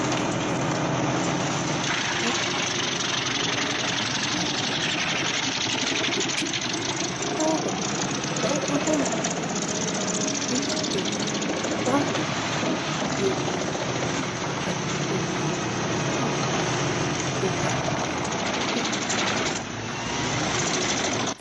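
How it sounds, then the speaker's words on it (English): A large self-propelled wood chipper roars steadily as its steel drum chips massive logs fed by a mechanical arm, a dense, continuous, loud engine and grinding roar with no pauses. "The engine's roar combines with the steel cutting wood and the cascading chips"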